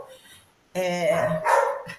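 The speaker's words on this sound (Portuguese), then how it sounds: "vão todas latir agora para fazer parte" Several dogs bark and yip close by in a short burst of overlapping barks lasting just over a second, preceded by a brief quiet moment.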